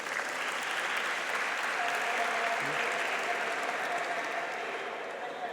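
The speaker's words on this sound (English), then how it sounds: "Please give them a round of applause" A crowd at a store launch gives a sustained round of applause for an airport authority team, dense and even clapping filling the room without pause.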